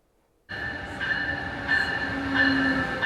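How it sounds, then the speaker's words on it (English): A train at Wilmington station rumbles in abruptly and stays loud, with a steady mechanical drone, high whining tones and a faint wheel squeal building toward the end, and no one talking. "Busy day at the Wilmington train station."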